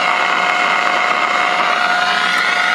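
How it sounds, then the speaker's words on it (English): Voltage trace from an electrophysiology recording electrode fed to a loudspeaker, heard as a steady, loud broadband hiss with a faint hum and no distinct clicks, running unbroken for the whole stretch. "The noise you hear is the voltage trace from my recording electrode that's hooked up to a speaker"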